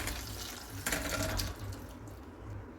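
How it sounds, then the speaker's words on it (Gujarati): Water drained from a pot of boiled gunda fruit pours and splashes steadily into a sink, a continuous rushing flow with a brief louder gush partway through before it tapers slightly. "આ રીતે બધું પાણી નિતારી લઈશું."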